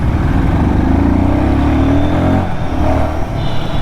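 A Royal Enfield Guerrilla 450 motorcycle with a slipper clutch accelerates in a loud, close, steady engine drone with a rising pitch sweep, heard alone without talk.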